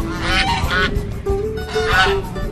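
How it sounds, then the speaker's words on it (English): Canada geese near a river honk loudly and close by, with a pair of calls near the start and another burst about two seconds in, over steady outdoor background noise. "There's Canadian geese over here."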